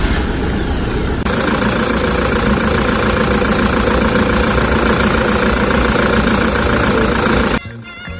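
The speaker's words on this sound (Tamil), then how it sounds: "இன்ஜின்ல அப்நார்மல் சவுண்ட் வருது" A car engine idling with an abnormal knocking fault, a loud, steady mechanical drone with a rapid repetitive tapping running through it, close up, before the sound drops off abruptly near the end.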